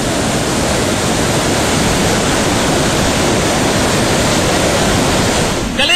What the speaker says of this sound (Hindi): पानी की गर्जना ऐसी कि कान सुन्न हो जाए,